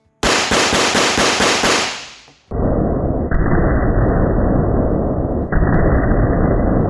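Blank alarm pistol fired in a rapid burst of sharp cracks for about two seconds, loud and close, followed by a duller sustained noise with a sudden shift partway through.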